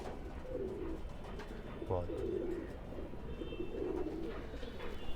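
Pigeons in a breeding setup for fighter birds give soft, low, throaty coos that repeat several times, fairly quiet against a faint background hum.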